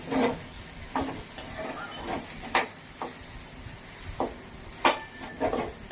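Raw green banana pieces are stirred in a pan and fried, giving soft scraping stirs with a light sizzle beneath, several distinct strokes spaced a second or so apart, close and fairly quiet.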